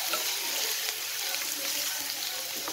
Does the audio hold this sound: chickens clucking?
no